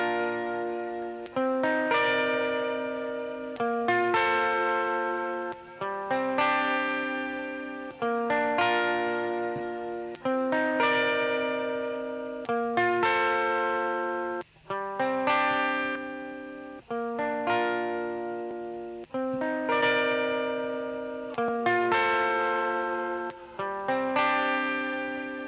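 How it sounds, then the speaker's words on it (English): A clean electric guitar through a CLA Guitar plugin plays slow, repeating chord phrases washed in reverb and echoing delay, each strum swelling and trailing off, with no voices. "It's a nice dreamy sounding reverb on that, actually, and delay combination."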